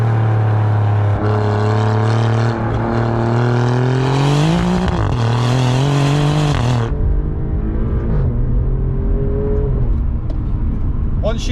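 Alfa Romeo Giulia Quadrifoglio, a 2020 model, starts up and drives off in the cold, its engine note close and loud, climbing in pitch as it revs and then easing lower, with a person talking over parts of it.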